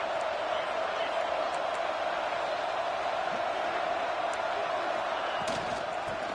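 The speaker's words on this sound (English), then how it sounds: "Raider crowd rising to the occasion to help its defense on 3rd down." A stadium crowd in an NCAA football video game roars steadily on a third down, a continuous broad wash of cheering that holds level throughout, with commentary speech over it.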